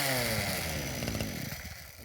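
A Makita EA4300F chainsaw fires up on the first pull with no choke, its loud two-stroke engine revving close by and then settling into a rough, sputtering idle.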